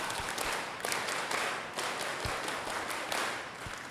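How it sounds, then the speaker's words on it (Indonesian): A group of parents joins in the rhythmic Indonesian scout clap (tepuk pramuka) during a school parenting webinar. The clapping is fairly faint, uneven and crowd-like, with several pattered bursts over a few seconds. "mari sama-sama kita melakukan tepuk pramuka"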